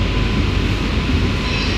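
An AC local train pulls into Bongaon station, a loud, close, continuous rumble of wheels and carriages filling the whole moment without any voices.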